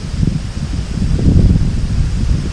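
Strong outdoor wind roars and buffets loudly and close, a constant low rumbling gust with surges throughout and no voices.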